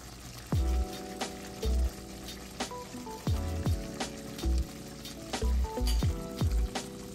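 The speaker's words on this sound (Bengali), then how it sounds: "এখন আমি দিচ্ছি সব গুঁড়ো মশলা যেটা তৈরি করা হয়ে গেছিল।" Ground spices frying in hot oil for moringa chutney crackle with a soft sizzle, broken by repeated low thuds and scraping knocks of stirring at irregular intervals.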